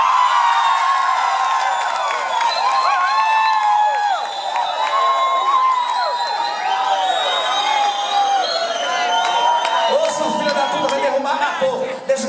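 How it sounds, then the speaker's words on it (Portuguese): A packed dance club crowd cheers, whoops and shrieks for a performing duo, loud and continuous with many voices shouting over scattered applause. "Os aplausos pra dupla!"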